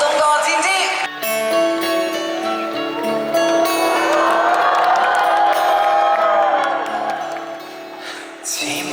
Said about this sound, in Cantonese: 俾掌聲我兄弟！